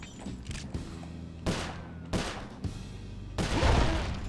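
Sharp bursts of gunfire in Sly Cooper: Thieves in Time sound several times at uneven intervals, with the last volley longer and heavier, over a low steady game background.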